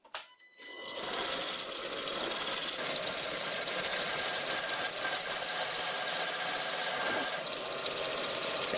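A small tool rest set on a wood lathe while the domed top of a carver's mallet is turned, giving a steady, loud broadband scraping and whirring that starts after a brief pause and runs continuously without talk.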